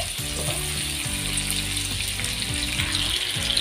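Garlic and onion sizzle steadily in a hot pan, a dense, constant frying hiss with no talking.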